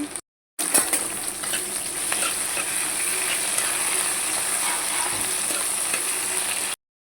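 Tomato pieces fry in a pan for wheat rava upma, making a continuous bright sizzle up close with faint stirring, steady from start to end after a brief silent gap.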